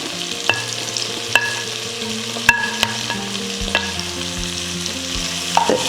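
Shallots and onion being sautéed in a pan for a Kottayam-style pork dish, with a steady sizzle under repeated stirring and sharp scrapes and clinks of a spoon against the pan.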